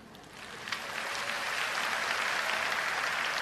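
Applause from a congregation at a religious healing service rises quickly from quiet and holds as dense, steady clapping, with no voices over it.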